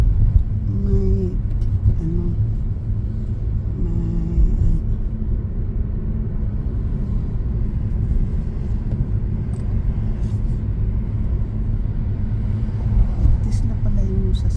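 Low, steady road rumble fills the cabin of a Tesla car riding on a highway, constant and close, with a voice talking over it now and then.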